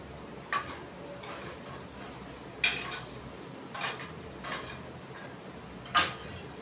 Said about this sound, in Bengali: ভেজে রাখা ডালের বড়িগুলিও দিয়ে দিচ্ছি।